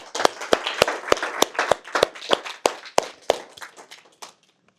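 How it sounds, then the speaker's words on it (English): Scattered audience clapping at a developer meetup event, about fifteen sharp, separate claps in an uneven rhythm that thin out and stop, close and moderately loud. "So give yourself a round of applause."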